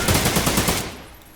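Rapid automatic gunfire in the shooting video game Trepang2 rattles in a fast burst of evenly spaced shots, loud and close, then cuts off and fades into a quieter tail.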